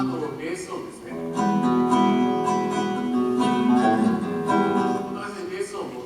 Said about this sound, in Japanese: クラシックギターでした。